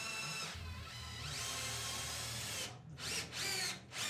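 A power drill runs loudly and steadily while wooden pieces are fastened into a triangle brace in timber rafter framing, with two short pauses near the end and no voices.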